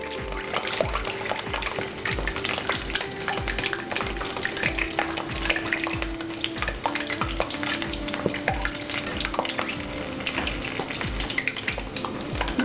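Vadas for dahi vada frying in oil on medium heat, a dense continuous sizzle and bubbling with regular soft knocks, close and steady throughout, no voices.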